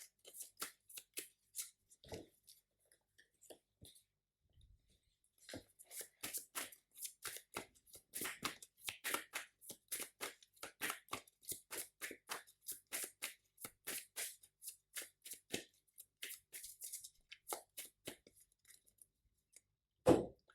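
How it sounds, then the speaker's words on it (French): A deck of Marvel Champions cards being shuffled by hand, with quiet, rapid riffling and snapping bursts that repeat in a steady rhythm, close and crisp, ending with a sharper knock. "Je rebrasse mon deck."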